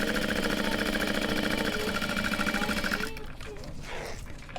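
Sewing machine basting stitches along the top edge of a fabric handbag, a steady rapid mechanical whirr for about three seconds that then stops, leaving quieter room sound with faint voices.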